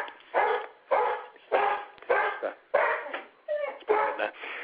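A dog barks repeatedly in a steady run of loud, close yips and barks with brief gaps between them, heard over an online talk about software.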